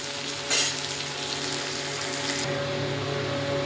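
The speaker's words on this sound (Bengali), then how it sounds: "পেঁয়াজটা একটু ভাজা হোক।" Onions sizzling and frying in a pan as the first step of a truck-driver-style mutton curry, a steady close crackle with one brief louder burst early on and no voices.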